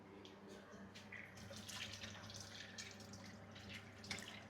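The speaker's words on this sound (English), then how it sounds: "Put some hot water." Hot water runs from a tap or is poured into a pan holding salmon seasoned with cumin and a little oil, a soft continuous splashing flow under quiet background noise.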